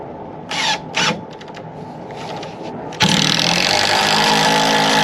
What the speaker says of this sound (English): hopefully this one won't be a problem because it is screwing through a knot